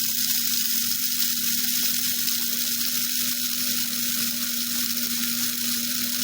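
An electric grinder runs steadily, grinding rice with fresh herbs. A constant motor hum sits under a loud, dense whirring hiss that continues unbroken, close up and with no talking.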